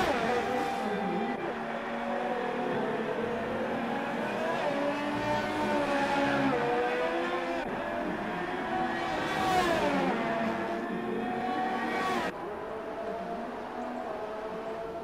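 Several F1 2018 race cars in a video game roar through Brazil's Interlagos circuit, engine whines rising and falling as they pass, with a sharp pitch sweep near the middle and a sudden cut near the end, steady and fairly close throughout.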